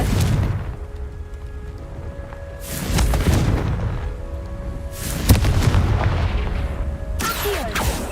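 Confringo blasting spell from Hogwarts Legacy, heard as three loud booming explosive blasts spaced a few seconds apart, each with a broad rumbling burst and decaying tail over continuous game ambience.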